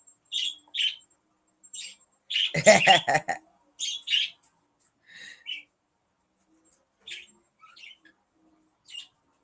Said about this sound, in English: my birds are being loud